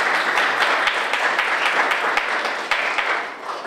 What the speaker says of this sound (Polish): Wielkie brawa dla debiutantów.